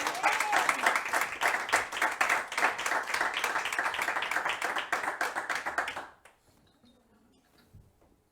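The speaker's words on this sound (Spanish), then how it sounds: "Un aplauso a Jesucristo." A church congregation claps together in a brisk, dense burst for about six seconds, then the applause drops off abruptly into near silence with a few faint sounds.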